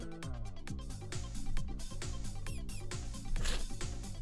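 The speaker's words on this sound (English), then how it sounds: "The mice squeaks in there as well." Squeaky mouse-like chirps woven into the bouncy Cheeseland track from Mario Kart 8, short high squeals popping above a rhythmic bass-driven melody throughout.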